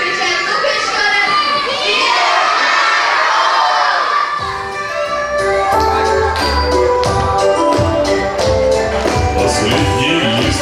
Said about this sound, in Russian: Вместе они вровень, звонко крикнем. Дед Мороз!